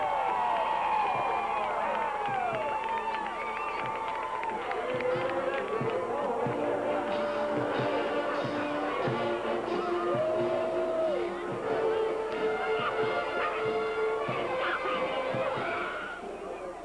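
A football crowd in East Texas roars after a 1987 high school game between Carthage and Daingerfield, a distant, steady wash of cheering, whistles and chatter with shouting voices rising above it.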